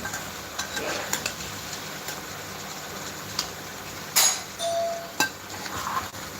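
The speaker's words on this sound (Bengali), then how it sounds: "মাছগুলো আগে কষানো হোক ভালো করে" Fish and tomato sautéing in a pan for a fish curry, a faint low sizzle broken by occasional spatula scrapes and metallic clinks against the pan.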